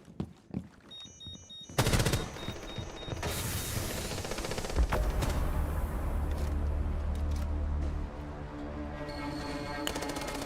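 Gunfire in Rainbow Six Siege, a few faint shots, then a loud sustained burst of automatic fire with rapid rattling cracks and a low rumble that carries on to the end.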